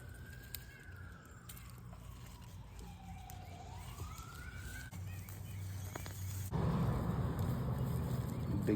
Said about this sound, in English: You hear the sirens? That is evidence that we are right in the city.